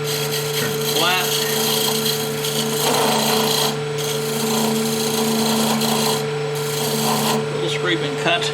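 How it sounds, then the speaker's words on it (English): Skew chisel cutting end-grain wood on a spinning lathe while turning a goblet, a steady scraping rasp over the machine's constant hum, with brief pauses between cuts. "That's where I'm going to use my skew."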